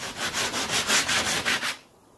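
Rhythmic back-and-forth sanding of a cut panel, about nine steady scraping strokes close up with a gritty broadband rasp, stopping abruptly near the end.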